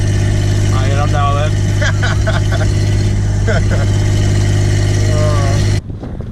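A slow Volvo car's engine hums steadily at low, even revs while driving, a constant drone with faint chatter and voices over it, cutting off abruptly near the end.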